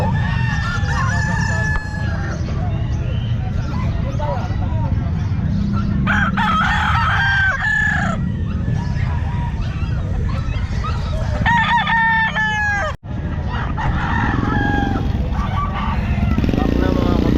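A young stag rooster crows repeatedly amid other fowl clucking at a busy pet market in Calumpit. Several loud, close crows rise over the constant crowd murmur and people talking nearby.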